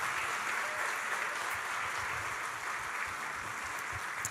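A church congregation at a wedding-related service claps together, a fairly faint but steady rush of many hands sustained for a few seconds with no voices over it.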